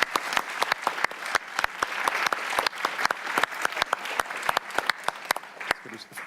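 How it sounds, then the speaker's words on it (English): A modest audience at a consumer-protection event applauds, a fairly sparse crowd whose individual claps stand out as sharp, distinct snaps over a softer bed of clapping, holding steady for several seconds before thinning at the end. "Big applause."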